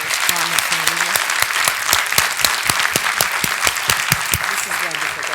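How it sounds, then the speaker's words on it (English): An audience at a conversation event applauds for the New York City Schools Chancellor, a steady, full round of clapping with distinct sharp claps throughout and a few voices underneath. "Please join me in a round of applause for the Chancellor of the New York City Public Schools, Carmen Fariña"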